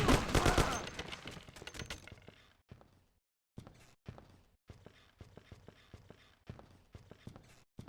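Thompson submachine gun fire in the 2002 video game Mafia: a dense, loud burst of automatic shots up front that tapers off, followed by scattered sharp single cracks and short bursts spaced across the rest.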